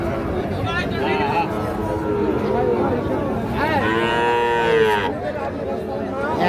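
A Sahiwal bull calf moos loudly and close at a busy cattle market, with several drawn-out lowing calls over steady crowd chatter and people talking nearby.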